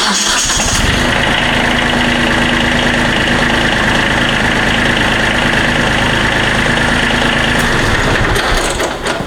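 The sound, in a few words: Kubota compact tractor engine idling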